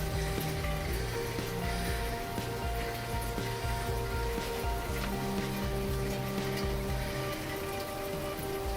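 Rain falls steadily on surfaces outdoors by a summer container garden at sunset, a soft continuous patter that stays faint and even throughout.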